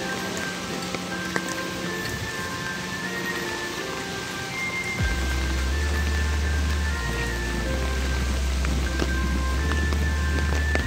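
Steady rain falls at Nagoya Castle in Japan, a continuous close hiss of drops on surfaces, with a deep low rumble joining midway.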